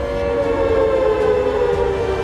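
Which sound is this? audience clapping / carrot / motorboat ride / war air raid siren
war air raid siren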